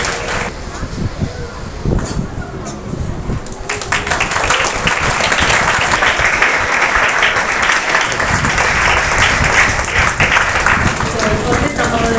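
A school audience at a self-realization program bursts into sustained applause, building from scattered claps into dense, loud clapping that continues throughout, with crowd voices mixed in.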